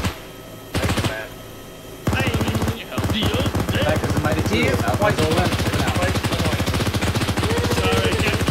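Rapid bursts of automatic gunfire in a video game rattle continuously and loudly after a short pause, with a few words spoken early on.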